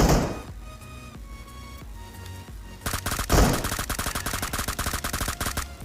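Rapid gunfire in PUBG Mobile as enemies are knocked, with scattered shots at first giving way to a dense, loud burst of repeated automatic fire that keeps going to the end.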